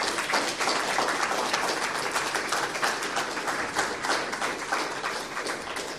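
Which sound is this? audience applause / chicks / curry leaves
audience applause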